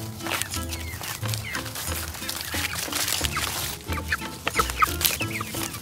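Backyard flock of chickens near a Premier 1 portable electric net fence, clucking and squawking in bursts over a steady busy outdoor background, with a voice briefly under the birds.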